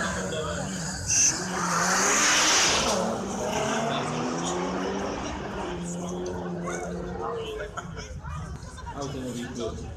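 A rally car sweeps past on a special stage of a regional Polish rally, its engine and tyre noise rising loud and close then fading, with crowd chatter and a commentator's voice over it throughout.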